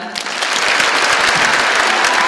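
A large audience at a political rally breaks into loud, dense applause that swells within the first moment and then holds at a steady, unbroken roar of clapping.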